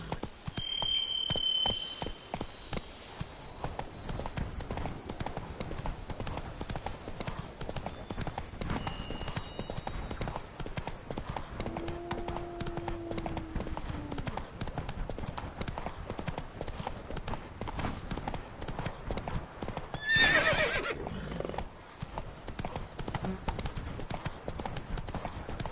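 Hoofbeats of a horse galloping in The Witcher 3, a steady rapid clip-clop running throughout under faint game ambience, with a brief louder swell near the end.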